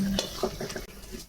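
Four dried red chillies and a bay leaf sizzle in hot oil in a home kitchen pan, a steady close crackle with a few light stirring scrapes over a short stretch and no talk.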